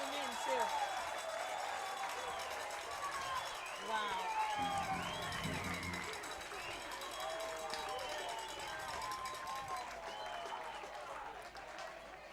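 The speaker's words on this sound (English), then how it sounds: "Jack Kuzma getting a nice round of applause from the folks in the Mustang in the Kruko clubhouse" A crowd at a college baseball game applauds in a steady, moderately distant round of clapping, with scattered cheers and chatter mixed in.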